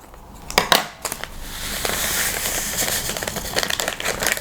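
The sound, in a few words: citric acid put into bowl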